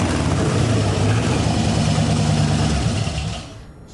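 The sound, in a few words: monster engine built from scrap parts running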